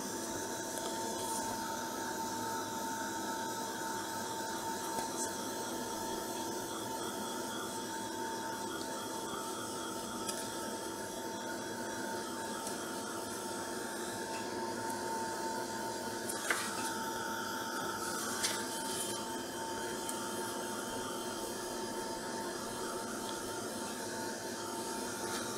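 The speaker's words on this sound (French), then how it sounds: "je prends un de ces petits sèche-cheveux." A small handheld hair dryer blows steadily on a sketchbook page being dried after watercolor painting, a continuous whirring hiss that holds level throughout with a couple of brief clicks partway through.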